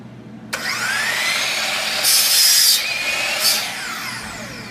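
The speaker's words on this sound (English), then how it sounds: "when you actually do cut a piece, you want to press firmly against the back" A power saw in a middle-school woodshop starts with a whine, then the blade bites into a piece of wood in two loud, rasping cuts over the steady motor drone, close and without talk.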